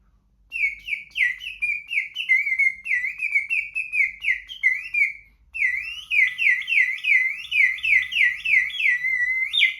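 A hand-painted Peruvian ceramic bird water whistle, filled with water, gives close, loud bubbling warbles in two long runs of quick chirps with a short break between them.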